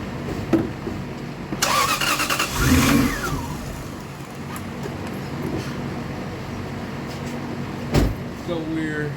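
A Lexus GS400 with a crank-and-stall fault starts and revs, a mid-pitched engine surging briefly amid shop clatter, then settling into a rough, fluctuating run.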